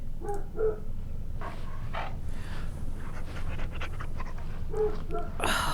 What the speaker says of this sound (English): Let's pet the puppy.